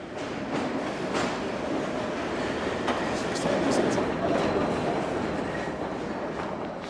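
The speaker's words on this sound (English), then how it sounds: "what we've got is an engineer's train moving through the area tonight." An engineer's train rolls through the London Underground at night, giving a steady, loud rumbling drone with faint rail clatter and occasional squeal throughout.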